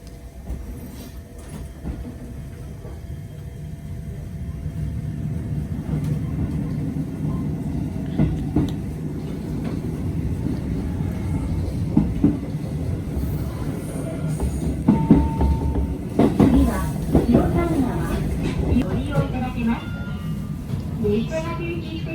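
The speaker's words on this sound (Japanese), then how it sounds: "この電車も発車しました。" A local electric train pulls away from a station in Japan and runs along the rails, with a steady rumble and faint clatter building slowly under ongoing passenger talk.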